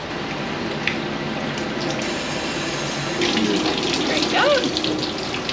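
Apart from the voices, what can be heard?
water poured through a sieve while rinsing plankton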